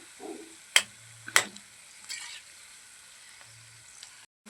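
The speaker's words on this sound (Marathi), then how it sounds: "ही पण दुसरी बॅच तळून झाली आपण ही काढून घेऊ गॅस बारीक करूया" Chili bhaji frying in hot oil, a soft steady sizzle broken by a couple of sharp clinks or stirring knocks near the start, quiet and close with no one talking.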